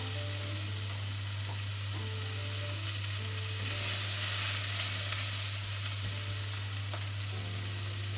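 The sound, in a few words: onions frying in meat fat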